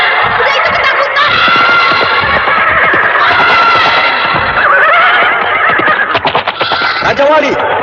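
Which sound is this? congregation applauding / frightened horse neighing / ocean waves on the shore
frightened horse neighing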